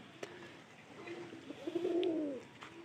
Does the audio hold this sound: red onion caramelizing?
no